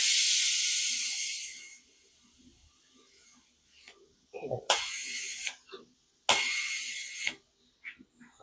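A MIG-style torch tack welds a sheet metal panel on a '41 Ford Supercab. Three short bursts of harsh, hissing crackle are separated by quiet gaps with small clicks and handling noises.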